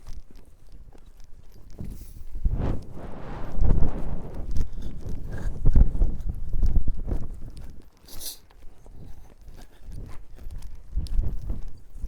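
Horse hooves on an arena surface during rollback training, a rhythmic trotting clip-clop that grows louder and fades as the horse circles, with brief rustles and no voices.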